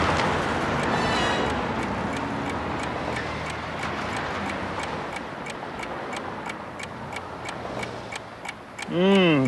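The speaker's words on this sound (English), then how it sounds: "Do you hear something ticking?" Steady ticking, like a timer, runs at an even pace through a theme-park special effects show, heard under a low rumbling background before a louder sweeping sound breaks in at the end.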